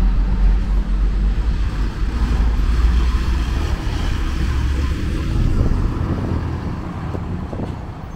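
A Scania-chassis intercity bus of the Rápido do Oeste line pulls out of the Ribeirão Preto bus station, a steady loud low engine rumble and road noise filling the whole stretch with no voices.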